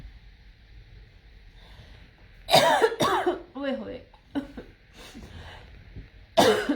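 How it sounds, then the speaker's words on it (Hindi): A few harsh coughs and throat clearing break out in bursts, close by, with a woman's exclamations in between over a quiet background. "खांसी छुट्टी।"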